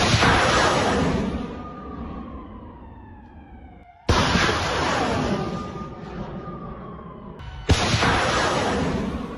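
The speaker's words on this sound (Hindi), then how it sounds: "यूक्रेनी फोर्सेस ने M270 MLRS से किया अटैक" An M270 MLRS rocket launcher fires in an artillery attack, producing three sudden loud blasts, each followed by a roaring, whistling rush that fades away before the next launch.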